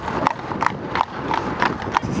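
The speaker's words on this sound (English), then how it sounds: "we're stuck behind horses" Horses' hooves clip-clop on a road in the New Forest in a steady, close, repeating rhythm of bright knocks over traffic and wind noise.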